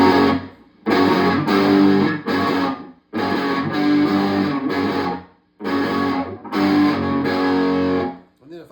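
Electric guitar through an amp set to high stage gain with the tight switch off, playing raucous, heavily distorted chunky chords in short bursts separated by brief gaps, loud and close with no talking.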